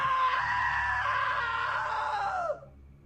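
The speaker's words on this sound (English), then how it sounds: "Now that was a great scream." A long, loud, shrill scream from a character in the video game What Remains of Edith Finch holds steady for over two seconds and then cuts off abruptly, leaving a quiet tail.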